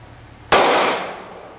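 A single sharp revolver shot fired at a target, loud and close, cracking out suddenly and then trailing into a decaying outdoor echo.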